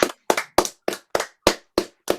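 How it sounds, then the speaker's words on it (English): Eight separate claps spaced about a third of a second apart, close and clear with silence between, as a small group applauds a panel of speakers at the end of an online economics discussion. "I think we'll give them all a clap."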